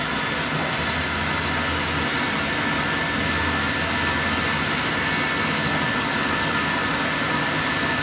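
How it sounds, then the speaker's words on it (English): A laser cutter's fume extraction system runs with a loud, constant whirring drone that stays even from start to finish, with no voices. "there is one big thing that I'm missing, and that's the extract system"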